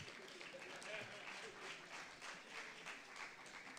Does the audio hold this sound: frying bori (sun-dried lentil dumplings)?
no